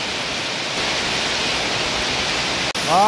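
Heavy monsoon-season rain pours down steadily as floodwater rises, a dense unbroken hiss that cuts out abruptly near the end, followed by a short tonal sound.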